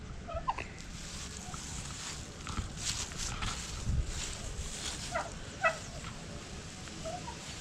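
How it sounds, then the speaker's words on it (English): Turkeys gobble in short bursts over a steady murmur of outdoor background noise, the calls scattered and moderately distant. "we come up here to check out the turkeys"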